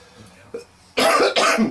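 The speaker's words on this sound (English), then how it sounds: "I got that cough." Coughing after eating a very hot jerky: a faint throat sound first, then two loud, close, harsh coughs in quick succession.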